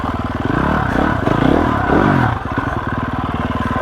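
A 2021 GasGas EX 350F dirt bike picks its way over rocks in first gear, the engine chugging and revving close by with a throaty pulse while clatter and scrapes ring out beneath it.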